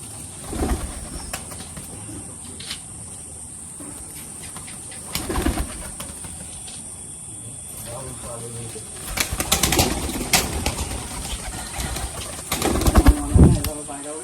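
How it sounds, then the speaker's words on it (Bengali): Madrasi pigeons in a loft give soft, low coos alongside several sudden bursts of wing flapping, with quiet voices and handling noises around them. "এটা হচ্ছে গিড্ডে পায়রা"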